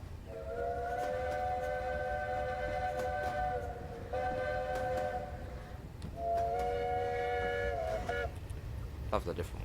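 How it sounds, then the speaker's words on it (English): Train whistle in the Train Sim Classic game, two long sustained steady blasts a few seconds apart, clear and prominent over a low rumbling background. "Love the different whistles on here though."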